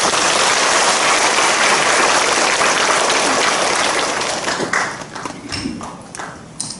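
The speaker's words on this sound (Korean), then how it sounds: "우리 주님께 영광의 박수 올리겠습니다." A church congregation bursts into dense, loud applause that holds steady for several seconds, then thins into scattered claps as it dies away.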